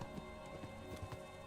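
Pebbles the horse trots in Kingdom Come: Deliverance, with a quiet, steady run of hoofbeat clops repeating several times a second under a faint ambient bed.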